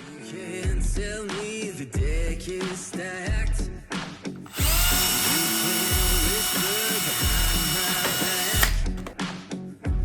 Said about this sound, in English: By drilling a hole through the plastic foot into the aluminium frame.